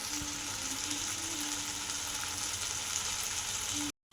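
Potato curry cooks over a low gas flame with a quiet, continuous hiss and gentle sizzle, steady for a few seconds before cutting off briefly at the end.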